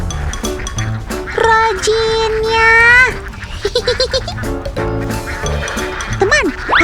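Ducks quack repeatedly while being herded across a harvested rice field, the calls loud and close, with a person speaking over part of the flock noise.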